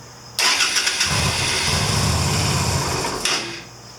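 A 2000 Yamaha Virago 250 (XV250) motorcycle engine cranks and catches, settling into a steady, loud rumbling idle for a few seconds before cutting out.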